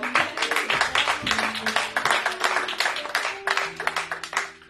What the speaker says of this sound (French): Est-ce qu'on peut applaudir les hommes?